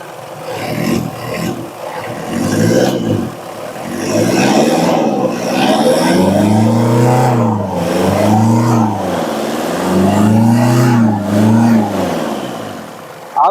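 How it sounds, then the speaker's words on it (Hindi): Diesel engine with a freshly adjusted fuel pump, running steadily and then revving up and down in repeated rising and falling surges, loud and close with no talk. "जैसे हम डीजल को इसका कम करेंगे इंजन की रनिंग भी स्लो हो जाएगी, आरपीएम डाउन हो जाएंगे"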